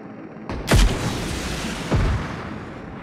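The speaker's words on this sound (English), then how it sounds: "Firing sounds detected." Two heavy weapon blasts from the shooter game Payload, each a sharp booming shot with a rumbling tail, spaced about a second apart, loud and close with no talk.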